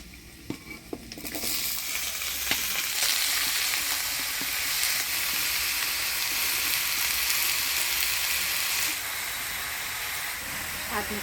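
Cut bottle gourd goes into a hot pan of oil tempered with five-spice, crushed ginger, dried chilli and bay leaf, and a loud, steady sizzle begins and holds with an occasional scrape of stirring.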